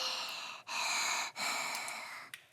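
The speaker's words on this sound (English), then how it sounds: "Pardon my breathing, but yeah, I'm human. I have to breathe to live." Slow, heavy breathing close to the microphone, a few long breaths in a row with brief pauses between them, soft and airy.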